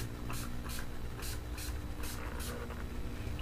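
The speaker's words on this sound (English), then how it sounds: "I'm just going to spray this all over." Six short hairspray bursts hiss in quick succession over a low engine-like hum, each spritz brief and close.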